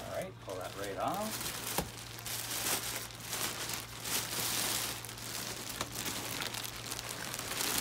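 Plastic wrapping crinkles and rustles as it is pulled off a Chime memory foam mattress, steady close crumpling and tearing over several seconds while a person talks throughout.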